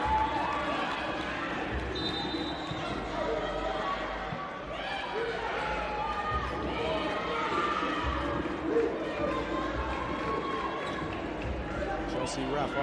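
Basketball arena crowd at a FIBA Africa Women's Championship quarter-final, a steady loud roar of cheering and chatter throughout a home scoring run, with ball bounces and squeaks mixed in and an announcer's voice over the top.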